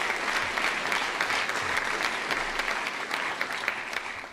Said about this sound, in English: So one last round of applause for her,